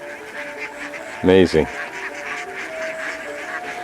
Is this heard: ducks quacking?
yes